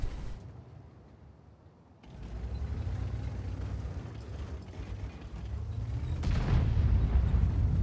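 An enemy tank gun fires in a combat game with a deep, heavy boom that swells out of a rumbling battle backdrop, then a louder blast near the end, with no talking.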